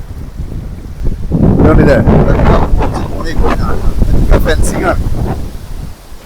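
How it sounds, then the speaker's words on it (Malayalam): Strong wind roars and buffets the microphone in loud, gusting waves, with a voice faintly audible beneath the rumble. "അതിന് മാത്രമുള്ള കാറ്റാണ് ഇവിടെ ഉള്ളത്"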